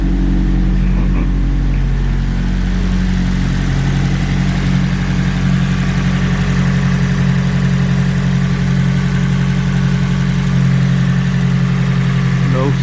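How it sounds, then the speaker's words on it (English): A 1995 Nissan 180SX Type X with an SR20DET engine and aftermarket exhaust idles after a cold start, a loud, steady, deep drone close by that holds level throughout, with a voice faintly under it. "It's going to do its cold idle back to regular idle."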